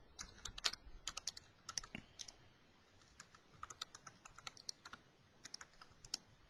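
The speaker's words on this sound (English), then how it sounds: "So we would go ahead and type that email address out here." Keys on a computer keyboard clatter in quick irregular bursts as an email address is typed, close and fairly quiet, with brief pauses between clusters of taps.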